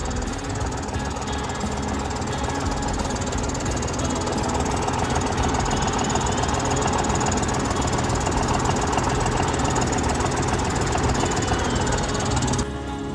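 A John Deere tractor engine runs steadily and loudly nearby, a continuous rough diesel chugging with no pauses, cutting off abruptly at the very end.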